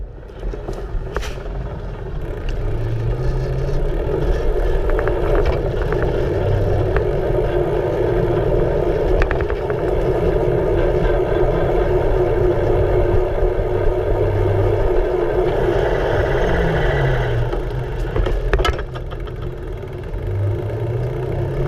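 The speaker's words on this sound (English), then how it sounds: "You can listen for that motor again." A PUBLIC M8 electric bike motor whining steadily while riding up hills, a mid-pitched drone with shifting tones as the rider climbs, wind and road rumble underneath, no talk.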